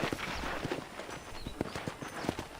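Horse hooves clip-clopping at a walk in the video game Red Dead Redemption, a steady uneven rhythm of close, moderately loud hoof strikes over a soft background hum with no talk.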